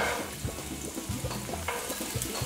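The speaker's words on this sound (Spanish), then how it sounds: "Ponemos mantequilla, un poquito de aceite, ponemos la cebolla" Onion sizzles in butter with a little oil in a pan for shrimp tacos, making a continuous soft crackle and hiss broken by frequent light stirring knocks, without any voices.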